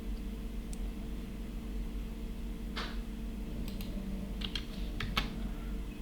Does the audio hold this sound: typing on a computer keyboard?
yes